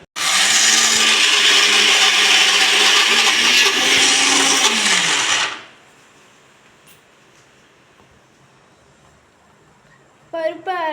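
A mixer grinder whirs loudly and steadily while grinding lentils, its pitch shifting slightly as the load changes, before spinning down into a quiet room with faint background noise and a brief sound at the end.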